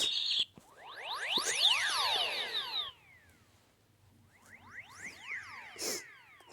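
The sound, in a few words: bird sounds ringtone on Samsung SGH-X450 phone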